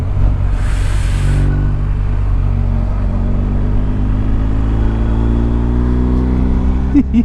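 A car passes close by on a Serbian road, heard from inside another moving vehicle as a rising and falling engine whoosh over steady cabin rumble, with a voice briefly speaking.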